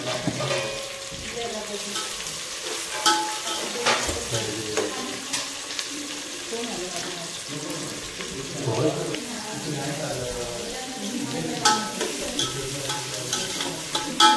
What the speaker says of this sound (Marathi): बिर्याणीसाठी कांदा फ्राय करून घेते